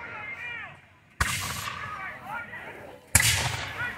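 Militia muskets fired by ranks at an 1812 battle reenactment: two loud, sharp volley cracks about two seconds apart, each ringing out across open ground, with faint birdsong in the quiet gaps.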